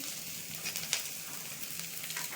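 A green chili dropped into a frying pan of spinach bharta with ginger-garlic paste gives a soft continuous sizzle and light stirring scrapes, faint and close, with no one talking.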